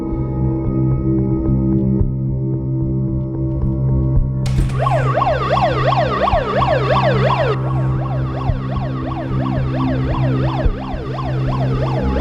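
An ambulance siren wails in a rising and falling pattern over steady traffic rumble, starting partway through and growing prominent, with no talking.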